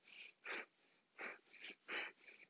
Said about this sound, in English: starting our breath of fire, we're working with a snap back